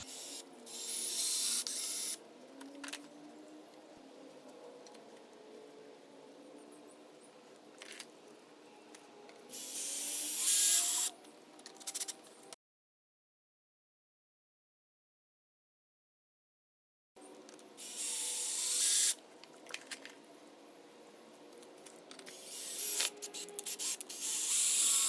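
Three-inch deck screws being driven into wooden wheel cribs with a power driver, several whirring bursts separated by pauses and a stretch of silence.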